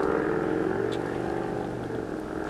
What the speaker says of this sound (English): Fucking motorbike in the background.